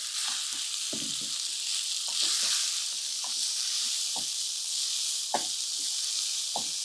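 Cooked rice tipped into a hot pan of fried mustard seeds and urad dal, giving a steady bright sizzle with scattered soft knocks and scrapes of stirring, close and continuous with no talk.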